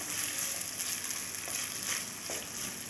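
About 50 grams of ginger-garlic paste frying and being stirred in a pan, with a continuous close sizzle and a few faint scraping strokes, and no voices.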